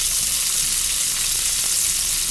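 Brussels sprouts sizzle steadily in hot oil in a pan, a loud, even hiss that runs without a break and has no talk over it.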